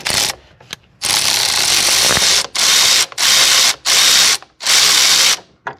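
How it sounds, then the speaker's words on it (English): A ratchet loosens a bolt on the AC discharge line of a 2011–2016 Dodge Journey. Loud, close bursts of rapid clicking are separated by short pauses, with no talk. "Bolt just cracked loose."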